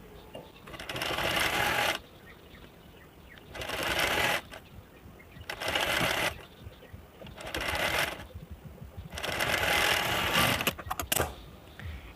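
A sewing machine stitches a blouse sleeve in loud, steady runs of a second or two each, five bursts separated by short pauses with quieter handling in between.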